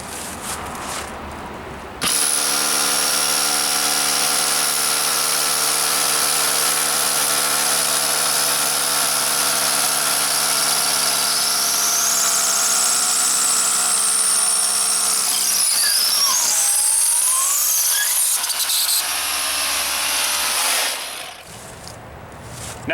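A Milwaukee 2712 M18 FUEL 1-inch SDS-Plus rotary hammer bores through a cinder block wall, starting abruptly and running loud and close for about twenty seconds of continuous hammering whine, its pitch shifting near the end before it stops.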